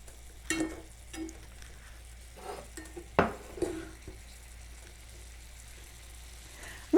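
Fiddleheads simmering in a slightly small pan while being turned, with a few soft scrapes and clinks of utensil on the pan over a faint steady bubbling, no talk.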